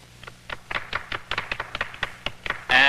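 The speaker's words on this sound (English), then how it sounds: "A little applause, please." Sparse, scattered hand claps from a small audience at a live 1964 radio show at the Cavern, irregular taps building briefly before a louder burst of sound at the end.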